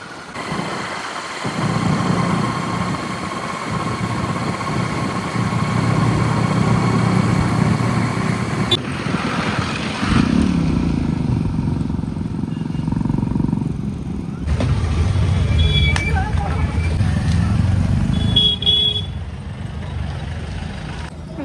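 A tractor engine runs during a ride, a steady low rumble that carries on throughout with a few shifts in load and tone.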